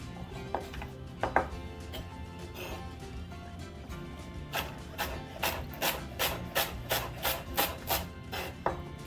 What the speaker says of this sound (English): I'm gonna cut you up some celery